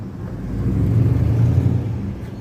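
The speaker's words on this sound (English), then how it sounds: "Oh, the car's coming out good." A car pulling out of an alley on a Chicago city street on a winter evening, its engine a steady low rumble that swells slightly as it moves close by, with no talk.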